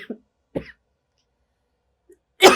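A teacher giving an online commerce lesson coughs suddenly, with two short coughs at the start, then a louder, harsher burst after a pause.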